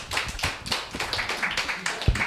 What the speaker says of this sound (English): A round of applause for these gentlemen.